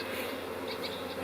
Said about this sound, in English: You can see some of the bees are fanning